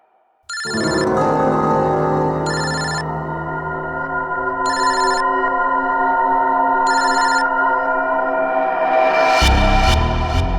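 A telephone rings with four regular bursts of a bright electronic bell, loud and close, over a sustained background tone that swells near the end; no one speaks.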